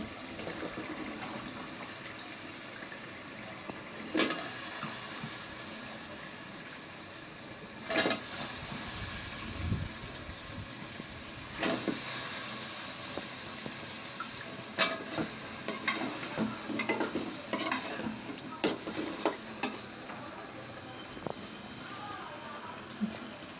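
Vegetables sizzling in hot oil over fried spices, a steady frying hiss with stirring scrapes and clatters throughout, close by, with occasional voices.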